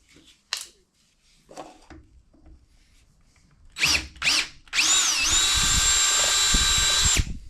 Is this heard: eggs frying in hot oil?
no